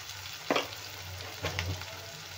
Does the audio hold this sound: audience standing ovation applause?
no